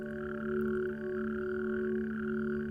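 Natterjack toads call in a dense, continuous chorus of rolling, rasping trills during their spring-to-summer mating season, steady and fairly loud with overlapping voices and no talk.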